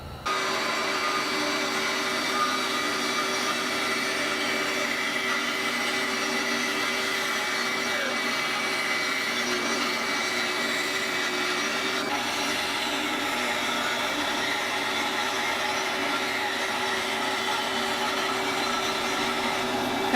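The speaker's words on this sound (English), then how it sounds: "After resawing these pieces, a couple of passes to the drum sander will make sure that they're all at the same thickness." Drum sander smoothing resawn wood pieces for coasters cut from a failed guitar body, a continuous loud motor whine with rough abrasive hiss that stays steady throughout, no talking.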